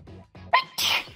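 A close, sharp sneeze in two quick bursts, breathy intake then explosive release, between brief snippets of talk during a VRChat game session.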